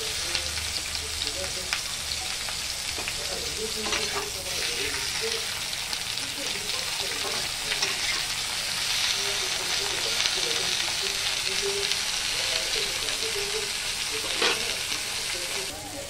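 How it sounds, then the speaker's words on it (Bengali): Bitter gourd slices fry in hot oil with a dense, steady sizzle and crackle that runs unbroken throughout, with occasional faint stirring knocks. "তেল গরম হয়ে গেছে, করলাগুলো দিয়ে দিচ্ছি।"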